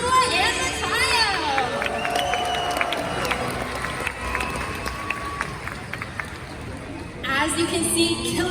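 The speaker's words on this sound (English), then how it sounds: "Let's give a big cheer for all of you, and of course, Trua and Makayo." Audience at a killer whale show in Orlando cheers and shouts in a steady crowd roar, with an amplified announcer talking over the noise for most of the stretch.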